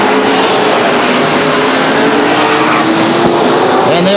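Stock cars at Stockton 99 Speedway roar past in a loud, continuous engine drone that rises slightly in pitch as the pack runs single file down the backstretch.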